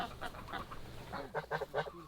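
Geese graze among the rows of an organic vineyard, giving a few soft, fairly distant honks that rise to a quicker burst of calls near the end.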